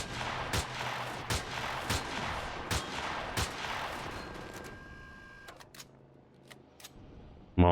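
Sniper rifle shots from the video game Empyrion Galactic Survival crack out roughly every half second to second over a steady background hum, with a few more spaced shots after the hum drops away near the end.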